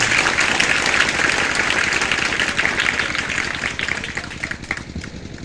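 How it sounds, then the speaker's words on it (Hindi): Steady, dense applause from an audience at a social awareness talk for young people, a continuous wash of many hands that stays loud throughout and thins slightly toward the end. "एक बार जोरदार तालियां जाए"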